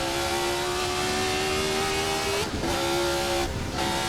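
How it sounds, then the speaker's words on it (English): A classic 1960s Formula 1 car engine in Assetto Corsa with the RSS mod, a high, steady, rasping tone held at speed, loud and close, briefly dipping twice with gear changes. "you can hear that engine, because apparently it was taken from real samples"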